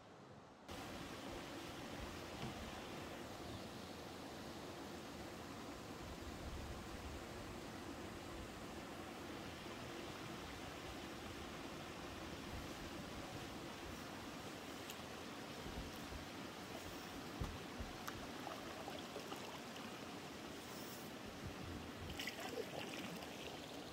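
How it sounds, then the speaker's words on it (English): A small waterfall in the Adirondack woods pours steadily, a broad continuous rush of falling water that stays close and fairly loud for the whole stretch, with no talking over it. "I think I just discovered a little waterfall."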